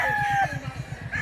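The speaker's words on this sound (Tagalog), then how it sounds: "Mga nindot nga manok." Chickens and roosters kept on display give a rooster's crow followed by a quick run of rhythmic clucks, close and clear.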